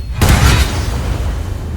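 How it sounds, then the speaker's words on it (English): A Booming Blade spell detonates in Baldur's Gate 3, a single heavy, loud boom with a thick low-end thump and bright crackle, trailing into a rumbling decay. "Then we'll Booming Blade again."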